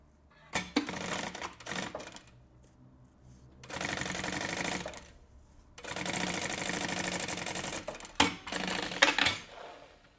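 A sewing machine stitches the top of a pocket on a cosmetic bag in several bursts of rapid whirring, separated by short pauses and light handling clicks.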